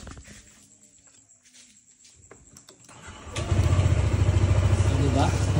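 A Honda ADV 160 scooter engine cranks and fires up after being started without a key, settling into a steady, loud idle close by following a quieter stretch of handling noise.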